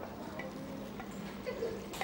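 Seafood rad na noodles stirred in a wok during a student cooking lesson, a faint, steady scraping and sizzling with small clinks of utensil on pan, heard close with no talk.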